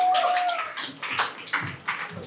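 A crowd at a corporate recognition ceremony for supervisors and assistant managers breaks into brisk, uneven applause. The clapping is moderately loud and sustained, with a brief tone ringing under it at the start.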